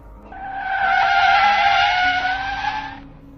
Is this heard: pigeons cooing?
no